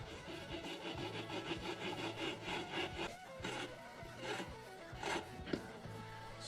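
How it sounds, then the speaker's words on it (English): Billet flywheel on a minibike being lapped in with compound, a steady back-and-forth grinding rub repeating in quick strokes, close and fairly loud, with no talk. "Lap this thing in."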